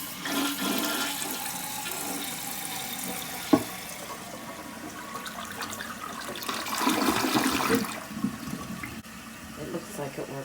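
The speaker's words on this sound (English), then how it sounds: "Now it's time to flush." A toilet flushes right after its fill valve was replaced with a Fluidmaster unit, a close, loud rush of draining water that settles into the hiss of the tank refilling.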